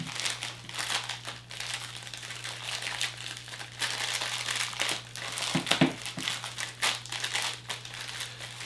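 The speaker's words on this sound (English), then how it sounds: "If I can get him out of his little plastic bag here." Plastic bag crinkles and rustles close up in irregular bursts throughout as a Funko Soda figure is unwrapped, over a low steady electrical hum.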